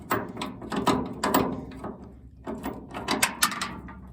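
A crescent wrench and Torx bit working a bolt loose on a rattling truck tailgate: repeated close bursts of metallic ratcheting and clicking, pausing briefly midway before resuming.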